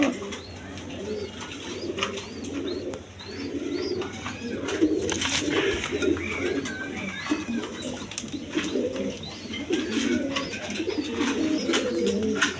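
Cream bar pigeons coo repeatedly in soft, throaty rolling bursts, close and fairly loud, with occasional chirps and wing rustles and no talk over them.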